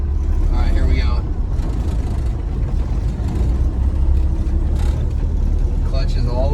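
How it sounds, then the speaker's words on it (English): Old Ford F100 pickup rolling slowly uphill in Florida with the clutch fully out, its engine a low steady rumble beneath ongoing talk from people inside. "We're driving an F100 in Florida on January like 6th or 7th"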